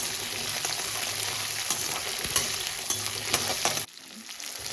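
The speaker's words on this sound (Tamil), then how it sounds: "சின்ன வெங்காயத்தை வந்து நம்ம வந்து ஃப்ரை பண்ணிக்கலாம்" Small shallots fry in oil for a thick mutton gravy with crushed spices, giving a steady, close sizzle with occasional stirring scrapes that cuts off abruptly near the end.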